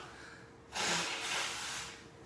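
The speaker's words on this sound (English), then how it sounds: "let me blow my nose" A single loud nose blow bursts out close by, a rushing honk lasting about a second and trailing into softer blowing.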